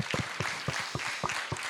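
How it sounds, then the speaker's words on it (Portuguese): Audience at a film debate applauding, steady overlapping hand claps in a continuous moderate wash, fairly near, with no talk over it. "Um salve de palmas para eles, vai."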